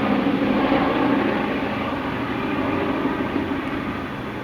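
A Boeing B-17 bomber drones overhead, a steady, moderately loud rumble of piston engines that holds evenly throughout.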